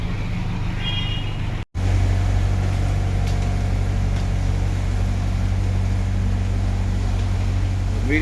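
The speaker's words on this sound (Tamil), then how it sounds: "மீடியம் ஸ்பீடில் போயிட்டு இருக்குது போட்டு" A houseboat motor runs at medium speed on the backwaters of Alappuzha, Kerala, giving a steady, loud droning hum that continues without a break after a brief dropout near the start.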